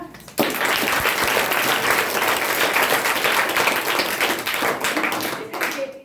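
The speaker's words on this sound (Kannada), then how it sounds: "ಶಿಕ್ಷಕರಿಗೂ ಕೂಡ ಜೋರಾಗಿ ಚಪ್ಪಾಳೆ ತಟ್ಟಣ" A school audience applauds the teachers, a loud sustained burst of many hands clapping that starts abruptly and continues evenly for several seconds before thinning at the end.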